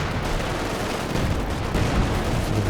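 Gunfire in the World War II strategy game Company of Heroes 2, a steady dense crackle of rifle and machine-gun shots blending into a continuous loud battle roar, without any talking.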